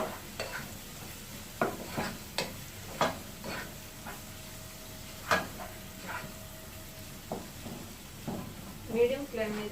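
Mutton keema cooking in a pan over a medium flame, with a soft sizzle beneath repeated sharp clinks and scrapes of a spoon stirring against the pan, and a voice talking now and then.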